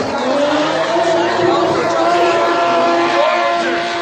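Drift cars roar past side by side at the finish line, engines loud and steady, with a tire squeal rising briefly over a commentator talking throughout.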